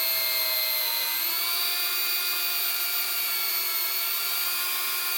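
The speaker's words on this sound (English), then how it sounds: "If it starts getting bogged down because it's filled up with wood, you'll hear that in your drill" A power drill bores steadily into timber with a loud, sustained high-pitched whine that shifts slightly in pitch as it works, heard alone and up close.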